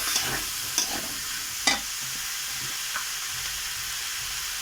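Potatoes and beans are stir-fried in a spice masala, a close, continuous sizzle broken by a few sharp spatula scrapes against the pan, with no voices.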